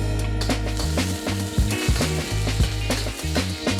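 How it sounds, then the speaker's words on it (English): Dried chilies toasting in hot neutral oil in a big wok over high heat, a steady close sizzle with occasional stirring scrapes and knocks. "We're gonna toast these chilies."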